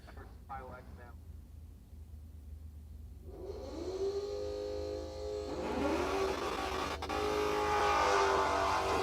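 Drag race cars, an S550 Mustang and a Malibu, launching side by side at a dragstrip: engines idle low, then surge into loud rising revs and roar away, a second wave swelling louder near the end under a talking announcer.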